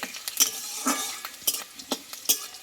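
Green chillies and curry leaves fry in hot oil for a vegetarian pointed gourd fry, with a soft sizzle under scattered clinks and scrapes of a stirring spoon against the pan.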